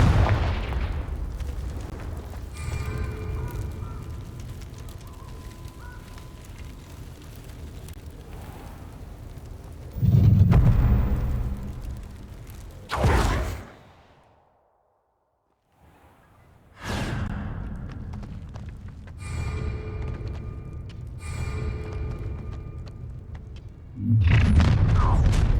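Confringo spells blast in Hogwarts Legacy, heavy booming explosions and crackling magical bursts that swell and fade in waves, broken by a few seconds of near silence.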